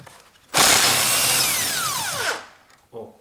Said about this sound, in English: when I use a little bit longer bar and impact driver, I can open this bolt easily in that way